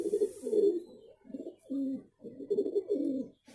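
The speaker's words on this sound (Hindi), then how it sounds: "अच्छा कबूतर है।" Red-tail high flyer pigeon cooing in repeated throaty, rolling bursts close to the microphone, several low coos in a steady rhythm with short pauses between them.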